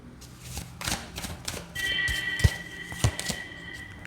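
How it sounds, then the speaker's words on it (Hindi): Tarot cards are pulled from a deck with soft, close shuffling and sliding taps in an irregular rhythm, several small flicks and slaps of card stock on a quiet background. "मेरे को कुछ और भी कार्ड्स आपके लिए पुल करने हैं"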